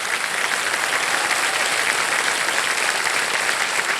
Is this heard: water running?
no